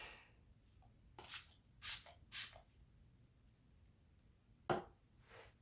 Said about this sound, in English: I'm using the Wet n Wild Photo Focus setting spray.